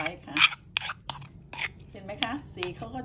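A metal spoon stirring a marinating seafood dipping sauce in a bowl, with a series of irregular clinks and scrapes close by while someone talks.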